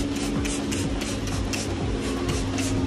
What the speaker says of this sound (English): what we'll do is we'll just do a light spray